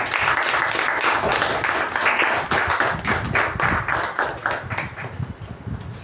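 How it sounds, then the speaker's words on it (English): A Toastmasters meeting audience breaks into a dense, sustained round of applause, many hands clapping close by and loud throughout, tapering only slightly toward the end. "I think we can recognize that with a good round of applause."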